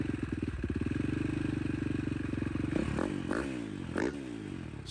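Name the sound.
vehicle engine running in video game Dead Island 2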